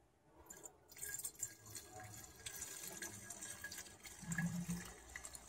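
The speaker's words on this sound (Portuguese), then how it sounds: "uma garrafa PET aqui com 400 ml de gasolina. Eu vou colocar aqui dentro." About 400 ml of gasoline is poured from a PET bottle into a container, giving a soft continuous liquid trickle and gurgle, close but quiet, with faint handling noises.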